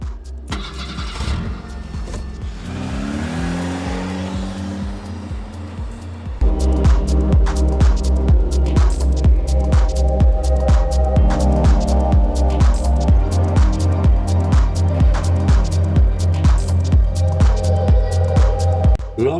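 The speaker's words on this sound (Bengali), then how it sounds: "টয়টা প্রোবক্স নিয়ে ট্রায়ালে যাই" Toyota Probox car on a trial drive: engine starts and idles, then a steady, close engine drone and road noise with rhythmic clicking, continuous and fairly loud throughout, no talking.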